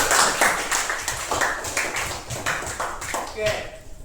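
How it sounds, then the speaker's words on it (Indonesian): A brief burst of clapping from a small classroom group, scattered hand claps mixed with a voice talking over them. "Kita kasih tepuk tangan pada Aliza."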